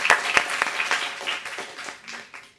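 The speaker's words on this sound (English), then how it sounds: "Let's clap for Kaylin anyway." An audience applauds at a screening event, a dense patter of clapping with a few sharp louder claps near the start, fading away over a couple of seconds.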